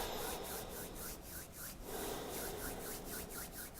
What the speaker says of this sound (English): push together your hands and push these and rub them back and forth